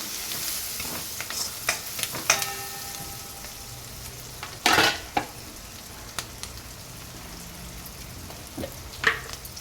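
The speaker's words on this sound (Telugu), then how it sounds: "ఇందులో కట్ చేసి పెట్టుకున్న పచ్చిమిర్చి వేసి వేపాలి" Chopped green chillies fry in hot oil in a pan for a tomato egg curry, giving a steady crackling sizzle with sharper spatters and occasional stirring scrapes, close and moderately loud with no talking.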